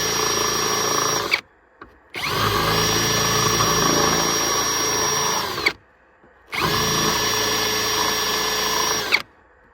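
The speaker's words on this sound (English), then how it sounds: "see if I could do it with a drill bit to do out this little groove" A power drill whirs loudly in three sustained bursts, separated by brief pauses, as the bit grinds a groove into plastic for a Flow Rite remote drain plug.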